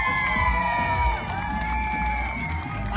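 Crowd cheering and whooping at a Relay for Life parade of teams on Guam, a dense, continuous roar of many voices with high shouts layered on top.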